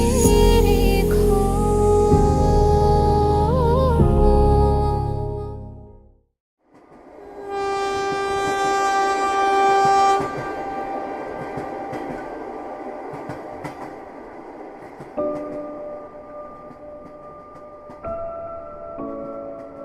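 A train running on rail: a loud sustained whistle-like horn tone, a brief pause, then a steady rumbling roll of wheels with lingering tonal hum, continuous and fairly close.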